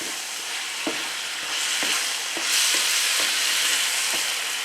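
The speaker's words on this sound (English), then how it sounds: "Now we're going to add our green onion. Get that tossed. And we're going to cook that for about a minute." Beef and noodles stir-fried with green onion in a hot pan give a steady, loud sizzle, broken by a few soft scrapes and tosses of a utensil.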